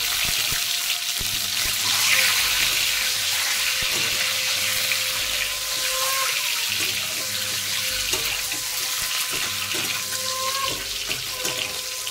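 Eggs fry in oil seasoned with turmeric and salt, a continuous broad sizzle and crackle from the pan that holds steady throughout, with no one speaking.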